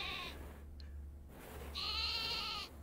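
Video game sheep giving two loud, close, wavering bleats, one brief at the start and a longer one near the end, separated by a quieter gap over a low constant background hum.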